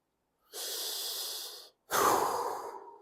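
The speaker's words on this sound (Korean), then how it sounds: "호흡을 크게 들이마셨다가 내쉬고 릴렉스 시켜주는 거예요" Two long, deep breaths during an abdominal breathing relaxation exercise, an airy inhale followed after a short pause by a forceful exhale, close and clear with no talk.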